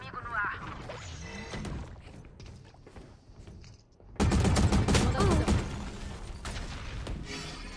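A quiet stretch with faint voices, then a sudden loud burst of video-game gunfire and crashing impacts that continues for several seconds.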